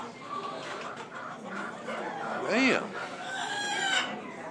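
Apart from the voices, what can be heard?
rooster crowing and clucking at a fair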